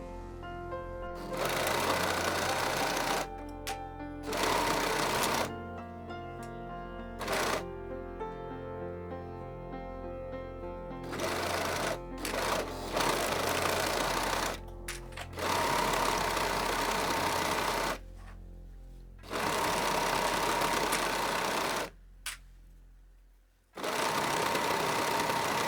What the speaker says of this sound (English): I can now sew the two legs from the waist down to the hem